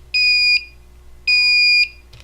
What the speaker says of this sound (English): Oh, we got a little beep back here.